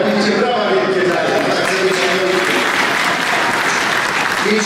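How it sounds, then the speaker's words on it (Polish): A church congregation at a Mass in a Chicago church applauds loudly and steadily for several seconds, a dense, even wash of clapping with faint voices beneath. "Będzie brawa wielkie dalej."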